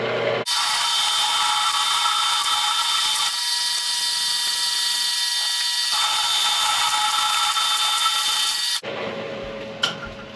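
A steady, loud mechanical whine with high-pitched grinding as a milling machine drills a 9/16-inch hole in metal runs for about eight seconds, then cuts off abruptly, leaving quieter workshop noise and a brief clank.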